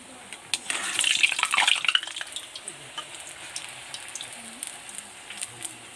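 Rolled luchi breads are dropped into hot oil and fry with a bright, busy bubbling sizzle that swells for about a second, then settles into quieter crackling pops.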